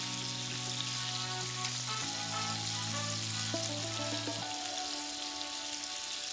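Hilsa fish fries in a pan with a soft, even sizzle and light crackle, fairly quiet, under gentle melodic background music.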